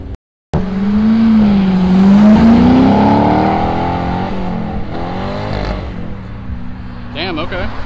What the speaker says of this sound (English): C7 pulling out, baby.